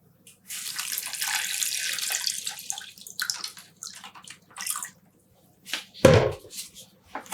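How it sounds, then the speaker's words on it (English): Cold water pours into a container to dissolve soda ash for yarn dyeing, a close, continuous splashing stream that tapers into a few intermittent trickles and one sharp final splash. "I'm adding in the water."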